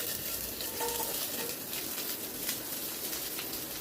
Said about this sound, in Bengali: পেঁয়াজ, টমেটো ওগুলোকে একটু ওলট পালট করে নেব।